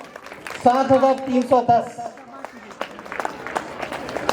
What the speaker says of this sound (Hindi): तस्कीन परवीन के लिए जोरदार तालियां।